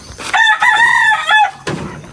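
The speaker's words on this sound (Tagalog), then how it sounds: "Kaninong manok doon nasa labas?" A rooster crows loudly and close outside a house, one long strained cock-a-doodle-doo call followed by a short extra squawk.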